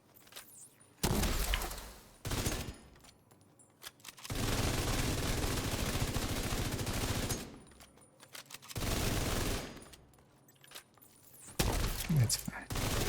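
A turret in a video game fires in several loud bursts of rapid automatic gunfire separated by short quiet gaps, with a voice talking in between.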